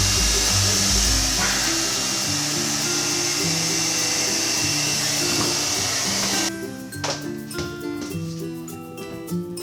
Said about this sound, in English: I'm just gonna defrost it with the blow dryer.